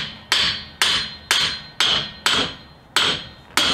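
Hammer blows ring out against a ball joint on a Dodge Dakota front axle, eight sharp metallic strikes in a steady rhythm about half a second apart, loud and close, each with a short ringing decay and no talking.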